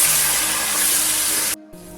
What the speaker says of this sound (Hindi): ऑयल में इसको फ्राई करते हैं।